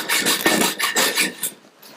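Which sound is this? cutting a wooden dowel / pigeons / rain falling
cutting a wooden dowel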